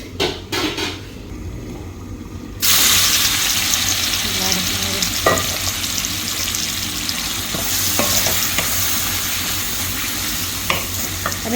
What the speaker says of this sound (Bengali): আমি একটু চুলার আঁচ কমিয়ে আমি এটাকে এইভাবে একটু ভুনা করে নিব।